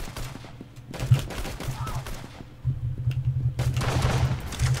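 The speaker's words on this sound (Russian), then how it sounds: "В упор выстрелил, два раза промазал." Gunfire in the Roblox shooter Arsenal: rapid automatic bursts and sharp shots crackle near, intensifying toward the end with no talking.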